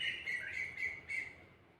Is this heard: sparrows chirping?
yes